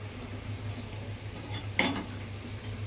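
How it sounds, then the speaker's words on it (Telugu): A lid is set on a pot of colourful curry in a home kitchen, giving one short metallic clatter midway over a steady low stove hum, with no talking. "ఇప్పుడు దీనికి మనం మూత అనేది పెట్టేసుకుందాం."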